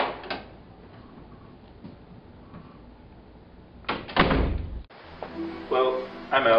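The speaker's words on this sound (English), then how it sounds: "Make sure you close that door" A door shuts with a heavy thud and rattle after a quiet stretch of room tone, followed by indistinct voices and movement nearby.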